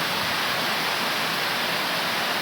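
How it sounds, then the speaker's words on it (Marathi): Heavy rain pours down steadily in a rural farm setting, a dense, continuous broadband hiss that stays loud and unbroken throughout, with no voices. "एकदम जोरदार पाऊस चालू झालाय."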